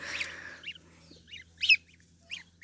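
A farmyard goose gives several short, nasal honks at moderate distance, spaced irregularly, with a low steady hum underneath.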